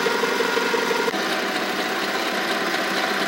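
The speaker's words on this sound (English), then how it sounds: "I've been machining this down pretty good" A MicroLux 7x16 mini lathe turns a pen tip, giving a steady, close mechanical whir and hum with a constant tone and one brief tick partway through, no talking.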